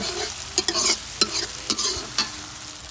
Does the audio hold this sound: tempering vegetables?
yes